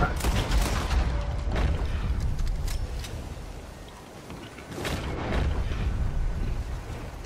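Gunshots in Red Dead Online ring out in several separated cracks with echoing tails, over a rumbling outdoor game ambience.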